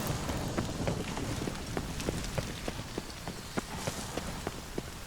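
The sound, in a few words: rain in video game The Witcher 3: Wild Hunt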